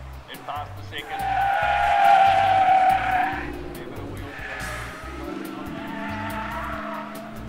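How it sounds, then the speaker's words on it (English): Tyres squeal loudly on a rally-winning Porsche Cayenne SUV charging up a hill climb at a motor festival, sustained screeches with engine noise beneath, fading and returning as the SUV corners. "there was plenty of squealing tyres as Millen thoroughly entertained his passeng"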